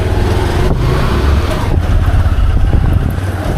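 Motorcycle setting off toward the mountains in Himachal Pradesh, its engine rumbling low and steady up close, with slight wavering in pitch as it rides on.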